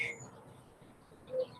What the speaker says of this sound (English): I have the music of the birds and the chickens.